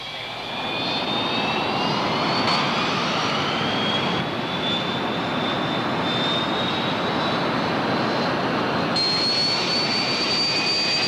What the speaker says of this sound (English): Flight 34, you're cleared for takeoff.